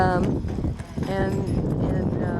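A horse pulling a carriage on a street clops its hooves in a steady, close rhythm, mixed with a dense wash of background voices and street noise.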